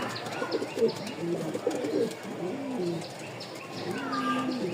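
Pigeons coo softly and repeatedly close by, a few overlapping throaty calls with faint chirps in the background and no talking.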